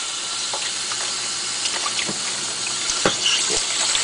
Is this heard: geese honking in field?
no